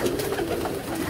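Middleweight, medium-sized pigeons on a rooftop loft coo softly and steadily through the whole moment, a continuous low burbling with no one talking.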